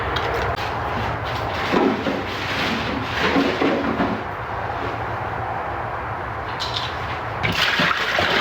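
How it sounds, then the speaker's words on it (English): Dish soap and laundry powder are poured and mixed into a thick laundry paste, making a continuous wet, squelching, sloshing texture at close range, with no voices. "Some more dish soap and powder to go in."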